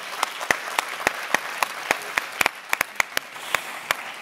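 Applause at a digital journalism congress: a small audience clapping in sparse, distinct claps, moderately close and steady for about four seconds, with no speech over it.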